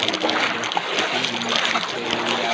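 Shallow river water being splashed and sloshed, a loud, continuous churning splatter close by, with people's voices mixed in.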